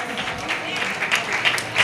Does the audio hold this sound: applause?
yes